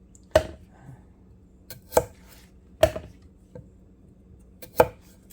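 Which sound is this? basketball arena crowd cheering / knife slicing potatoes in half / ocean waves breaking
knife slicing potatoes in half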